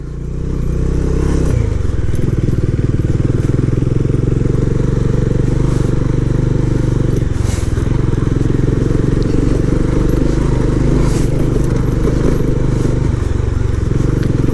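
A motorcycle engine drones loud and close while riding a rough off-road track in Lower Mustang, with continuous rumble broken by rattles and clatter from the bumpy ground.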